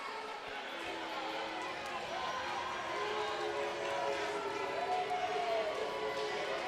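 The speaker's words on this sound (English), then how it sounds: "Crowd is letting him hear it." College basketball crowd in an arena, Valley State against Grambling State, jeering a free throw shooter with a steady, dense roar of voices, sustained throughout with faint tonal shouts rising above the noise.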